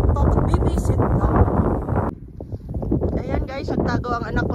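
Cold wind gusting across an exposed spot on Hehuan Mountain, a loud steady roar buffeting the microphone throughout, with a brief lull midway and people talking over it.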